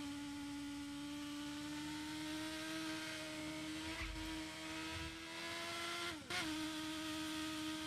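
Car engine in the video game Burnout Paradise held at steady throttle, a continuous whining drone that slowly rises in pitch, dips briefly and picks up again near the end, fairly faint and alone.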